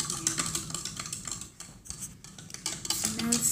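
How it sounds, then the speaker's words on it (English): Spoon scraping and clinking against a bowl while stirring a berry ice lolly mixture with berry pieces, a steady run of close, busy clatter with short pauses. "We're gonna mix it."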